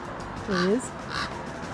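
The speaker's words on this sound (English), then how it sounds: "There's so many common ravens in the park." Common raven in a national park calling twice, a harsh, hoarse croak followed half a second later by a fainter second call, against steady outdoor background noise.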